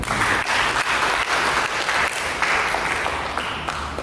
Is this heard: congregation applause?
yes